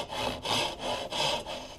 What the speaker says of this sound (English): We'll set our saw right there on that shoulder that we just cut and take this cut nice and slow